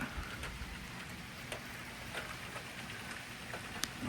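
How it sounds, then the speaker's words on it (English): Rain falls steadily on open land in Texas, a continuous soft hiss with scattered louder drops close by, no speech. "Yes, rain is coming."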